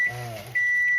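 A microwave oven holding cream of rice sounds a high electronic beep, first brief and then held steadily, over a low hum and a faint voice underneath.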